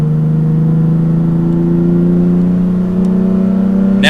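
A third-generation Toyota Tacoma engine hums loud and steady while accelerating, its low drone rising gradually in pitch with no speech over it.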